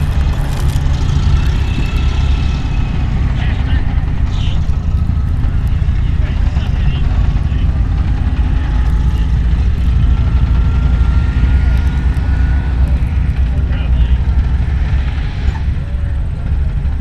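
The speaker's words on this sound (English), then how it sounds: "here come the Hetzers rolling up to support the infantry" Hetzer tank destroyers roll up at a WWII battle reenactment in Michigan, a loud continuous engine drone and track rumble that fills the scene, with people talking faintly.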